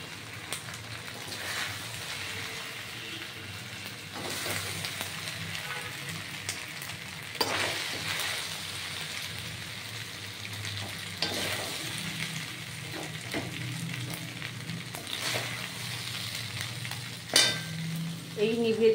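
Home-style Bengali vegetable pasta sizzles steadily in a pan while a spatula stirs it, scraping and clinking at irregular intervals, with a louder clatter near the end.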